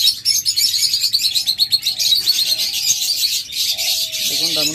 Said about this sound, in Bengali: দেখুন ডায়মন্ড ডাব কেমন ডাকে